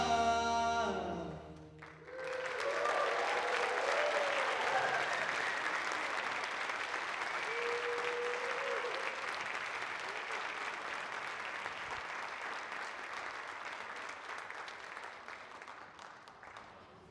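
Sustained audience applause following a performance at an MLK Day event, a short musical ending giving way to a long, dense clap from a large crowd that slowly tapers off.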